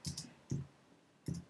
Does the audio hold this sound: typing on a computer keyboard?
yes